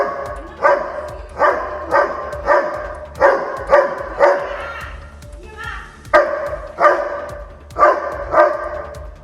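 A pet dog barks repeatedly at a snake that has entered a home garden, sharp bursts of barking in a steady rhythm, loud and close, continuing throughout.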